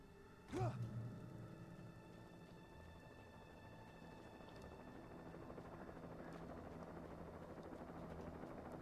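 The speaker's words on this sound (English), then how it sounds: "I hear a helicopter, but I don't see it." A distant helicopter drones faintly as a low, steady rumble, preceded by a brief louder sound near the start.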